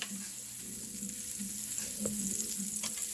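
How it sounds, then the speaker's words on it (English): Butter sizzles softly in a frying pan for sautéing shrimp, a steady faint hiss with a few light clinks, the sizzle picking up slightly toward the end. "We're going to add butter to the pan so we can saute our shrimp"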